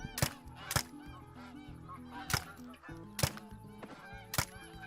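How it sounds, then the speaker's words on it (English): Geese honk repeatedly outdoors during a goose hunt, several loud calls spaced unevenly over a flock's steady background chatter, fairly close. "I hear more geese behind me"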